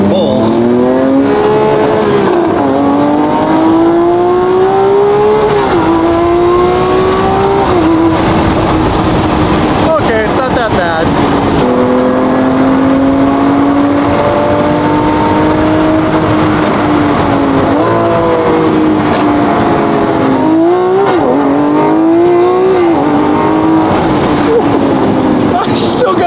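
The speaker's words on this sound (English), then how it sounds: "Love those first gear pulls." A Porsche Carrera GT engine revs hard in first gear and climbs in pitch, drops back, then pulls again, loud and close, with a voice talking over it.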